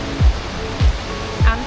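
The Falls of Clyde waterfall in Scotland in cold winter weather: a steady, broad rushing roar of water with three dull low thumps at regular intervals over it.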